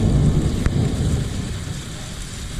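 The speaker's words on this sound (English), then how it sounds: "what a downpour." Heavy rain downpour pounding steadily over a valley after a storm, a dense broadband hiss that stays loud and constant with a faint thud early on.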